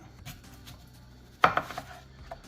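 A knife chops an onion on a cutting board in a quick cluster of sharp taps, close by, after a quiet stretch with faint background noise.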